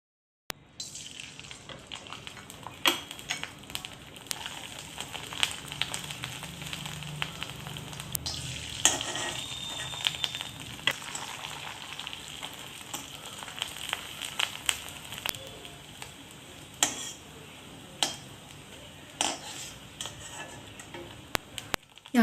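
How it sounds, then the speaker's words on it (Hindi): Sabudana papads fry in hot oil with a steady, close sizzle and scattered crackling pops that go on for over twenty seconds, with no talk over them. "यहाँ पे थोड़े से साबूदाना के पापड़ फ्राई करके निकालूंगी मैं"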